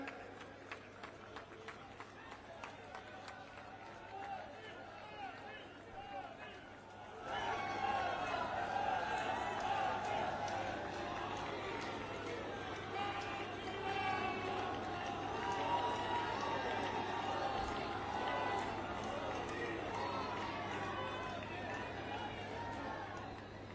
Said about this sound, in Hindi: आदरणीय प्रधानमंत्री जी और आदरणीय अध्यक्ष जी का मंच पर जोरदार तालियों से हम स्वागत कर रहे हैं